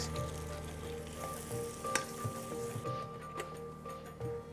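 Steady sizzling and crackling of cumin, ginger, garlic and onion frying in hot oil for a dal tempering, close by, with occasional stirring clinks and no talking.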